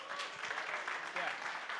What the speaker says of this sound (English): please give me a warm applause for our next 5